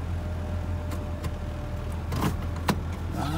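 An old shop truck's engine idles steadily close by, a continuous low hum with a few faint clicks and knocks over it.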